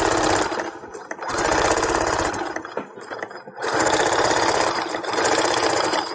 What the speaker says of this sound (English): I'm just going to sew completely flat this edge here.